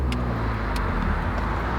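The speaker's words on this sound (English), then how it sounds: "It's a tiny car, a smart car." A Smart car driving through hilly traffic, with close, steady engine and road rumble heard from inside the car and a couple of faint high clicks.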